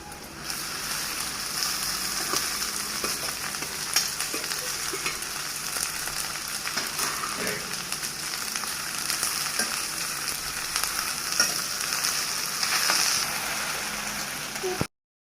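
Cut okra (ladies' finger) frying in a pan, a dense continuous crackling sizzle like light rain, steady and close throughout, with faint talk in the background.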